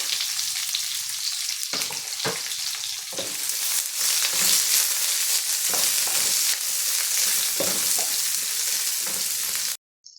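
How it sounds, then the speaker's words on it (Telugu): Onion pieces fry in hot oil with mustard seeds, cumin and garlic for a broccoli stir-fry, giving a loud continuous crackling sizzle with occasional stirring scrapes, then a sudden cutoff near the end. "ఉల్లిపాయ ముక్కల్ని కొంచెం వేయించుకున్నాము"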